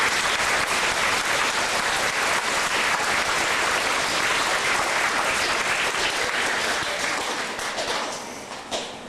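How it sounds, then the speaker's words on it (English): Audience applause at a community wish event in Barrie, Ontario, a full, dense round of clapping that holds steady and then tapers off near the end. "Please give her another round of applause."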